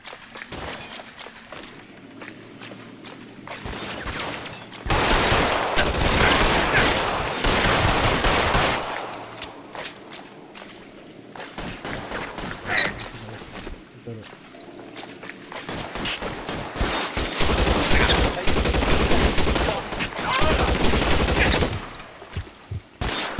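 Gunfire in the video game LA Noire, with dense volleys of shots and rapid bursts that come in long loud stretches, separated by quieter gaps where voices talk over the game.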